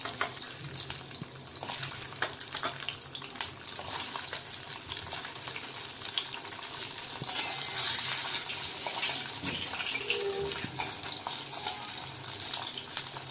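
Chitol fish balls sizzle steadily in hot oil, a dense continuous crackle and hiss that stays loud and close throughout with no talking.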